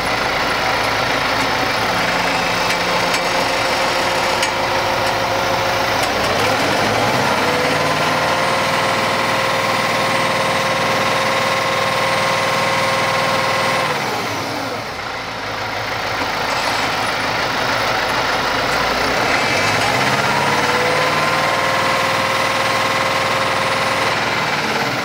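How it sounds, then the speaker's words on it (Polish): A Case tractor engine labours steadily as it strains to lift a heavy implement set weighing about 1,750 kg, holding a loud, continuous drone with a dip in revs partway through before recovering. "Ciągnik ma problem z podniesieniem tego."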